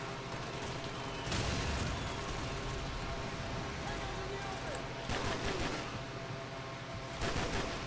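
Gunfire in Call of Duty: Modern Warfare comes as loud bursts of rapid game shots over a dense, constant battle din, with a few distinct volleys standing out against the noise.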